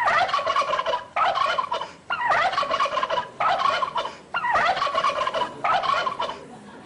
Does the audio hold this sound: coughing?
no